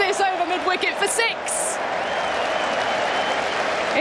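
Cricket crowd at an England vs Pakistan one-day international erupting in loud applause and cheers after a six heaved over mid-wicket, with a few whoops early on before settling into sustained, dense clapping throughout.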